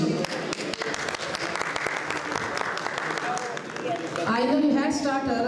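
Clapping from a seated audience at a Labour fundraising dinner in Southall, a steady patter of many hands that swells toward the end, with a voice speaking over it near the close.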